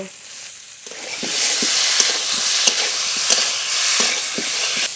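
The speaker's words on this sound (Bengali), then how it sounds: "এবার বাটা মশলাটা দিয়ে দেব জিরে কাঁচা লঙ্কা একসঙ্গে কষিয়ে নেব" Ground cumin and green chilli paste sizzles steadily in hot oil in a pan, with sharp spatula scrapes and taps cutting through the frying at an irregular rhythm, close and fairly loud with no talk.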